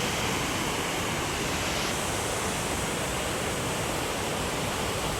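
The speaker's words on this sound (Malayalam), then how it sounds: "ഈ വെള്ളത്തിൻ്റെ ഒച്ച എനിക്ക് കേൾക്കാൻ പറ്റുമെന്ന് അറിയത്തില്ല" Rushing water from a waterfall beside a restaurant in Austria pours in a loud, unbroken roar of dense hiss that stays constant from start to finish, with no voices.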